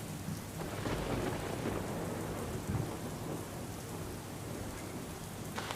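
Rain pours steadily over Vadodara after a long dry spell as thunder rumbles through it, a dense close wash of drops with deep rolling peaks and no one speaking.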